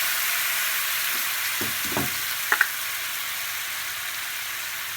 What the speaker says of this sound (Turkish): Şimdi domates sosumuzu atıyoruz sonra.